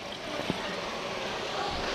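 Water poured into a cooking pot of hard chicken for a potato dish, a steady broadband trickle and splash that runs continuously, fairly close, with no talk over it.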